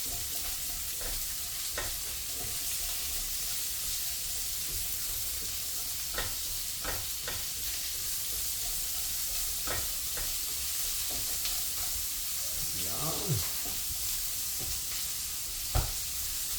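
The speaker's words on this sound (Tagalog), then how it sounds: "pag golden brown na yung bawang, sabay mo na yung pampabango, sibuyas" Garlic and onions sizzle steadily in a hot pan for pancit gisado, a constant frying hiss broken by occasional stirring scrapes and clinks of the utensil, with no talking.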